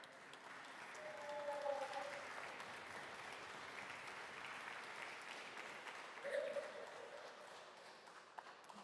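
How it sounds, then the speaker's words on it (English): An audience at the Co-op Congress International Supper applauds with steady clapping that swells briefly and again later, heard at some distance in a hall. "The people are not being paid to clap, you know"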